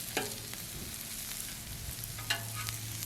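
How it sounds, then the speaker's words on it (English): Sliced peppers and onions fry on a Blackstone griddle with a soft, steady sizzle and a few scrapes of a spatula, fairly quiet and close, with no talking. "I mix the peppers and the onions and I let them go until they're nice, translucent, and caramelized"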